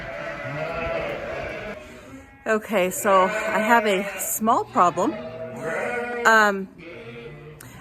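Sheep bleating close by in a pasture pen, several wavering bleats in quick succession while a person talks over them.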